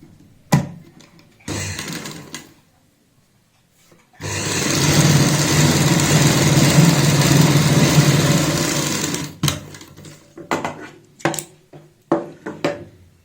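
A sewing machine stitches palazzo fabric in one long steady whirring run of about five seconds, bracketed by short bursts and clicks as the cloth is adjusted, with no talking.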